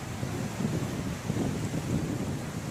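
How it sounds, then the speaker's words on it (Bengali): Low, steady roar of sea waves and wind at Bakkhali beach, a continuous broadband wash with gentle swells and no voices. "আর এই স্থান থেকে শুনতে পারবেন সমুদ্রের গর্জন, কারণ সামনেই রয়েছে বকখালি সমুদ্র সৈকত।"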